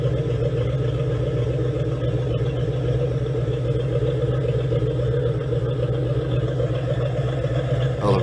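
Newer V8 engine swapped into a 1962–1964 Chevrolet Impala, fitted with an aluminum radiator and a Rochester carburetor, idles in a steady, continuous low rumble close by, with no one talking over it.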